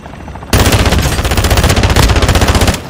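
Incoming automatic gunfire in Call of Duty: Modern Warfare DMZ on Ashika Island, a loud sustained rapid burst of machine gun rounds lasting over two seconds, close and dense, with no speech.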